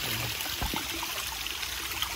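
A clear river flows steadily after heavy rain, a continuous close wash of rushing, trickling water with no voices.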